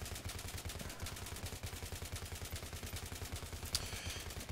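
Rapid, evenly spaced bursts from an M240b machine gun in Battlefield 3, a steady rhythmic stream of close shots repeating throughout.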